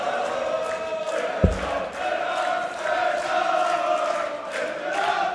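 Arena crowd at a German Darts Masters match in Berlin's Marathon Hotel, a steady chanting, singing roar from many voices with one sharp thud early on, continuing throughout.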